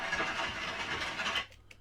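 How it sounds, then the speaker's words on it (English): A horse-drawn carriage sound effect plays as a continuous rolling, rattling rumble that cuts off abruptly near the end, with no speech. "This is the sound of a carriage."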